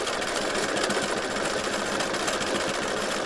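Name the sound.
sewing machine sewing a straight stitch scallop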